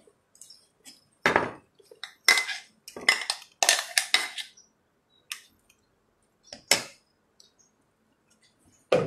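Scattered clinks and scrapes of a utensil against a dish, a series of short close knocks with quiet gaps between them.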